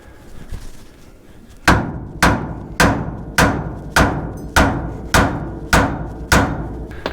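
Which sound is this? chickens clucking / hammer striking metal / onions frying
hammer striking metal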